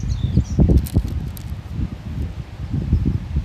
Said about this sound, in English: I know it's kind of windy.